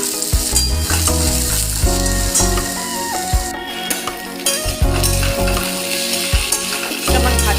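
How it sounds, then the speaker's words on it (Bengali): Okra stir-frying in a pan with split dried chillies, loud crackling sizzle punctuated by repeated rhythmic spatula scrapes and metallic clanks against the pan. "আমি একটু বেশ নাড়াচাড়া করে ভাজা ভাজা করে নেব"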